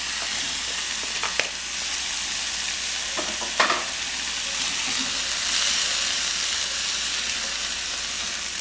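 Tomato frying in a pan for lentil soup, a steady broadband sizzle with a few brief stirring scrapes, close and alone without talk.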